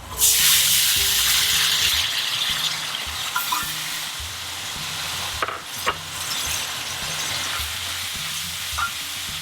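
Kashmiri kadai paneer masala with tomato puree sizzles and spits steadily in a pan after a splash of water, with a spoon stirring and scraping through the hiss and a few louder pops.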